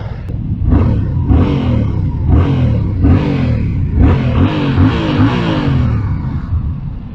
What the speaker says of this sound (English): I know the CP2 engine from Yamaha can have so good sound.